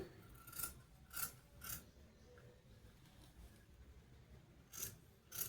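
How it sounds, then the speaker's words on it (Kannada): Scissors snipping through fabric while a sleeve is cut along a marked line, four quiet crisp snips in separate bursts with pauses between, no voice. "ಈ ರೀತಿ ಟರ್ನ್ ಮಾಡಿಕೊಂಡು 4 ಭಾಗನೂ ಈ ಲೈನ್ಗೆ ಕಟಿಂಗ್ ಮಾಡ್ತಾ ಇದ್ದೀನಿ ನೋಡಿ"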